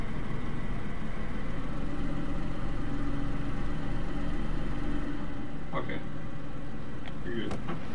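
A car engine idles in DayZ with a steady, low rumbling drone that holds evenly throughout, with a few faint clicks near the end.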